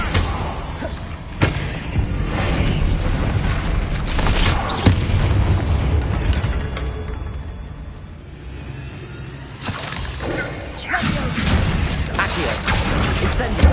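An Incendio fire spell cast in Hogwarts Legacy on PS5, loud booming blasts and crackling bursts over rumbling game sound, with a quieter lull in the middle before the blasts return.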